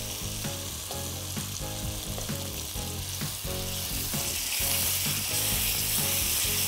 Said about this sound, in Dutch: En als hij goed verwarmd is, de currypasta, gaat de kokosmelk erbij.